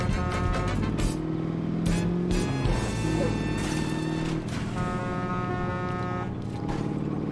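Loud game audio with music and crashes, broken by several blaring big-rig horn honks near the start.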